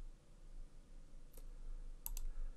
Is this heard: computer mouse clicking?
yes